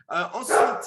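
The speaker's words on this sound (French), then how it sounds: "Ça, c'est mon chien qui aboie, c'est formidable." A Golden Retriever barks once, close and loud, in a brief burst with a person talking over it.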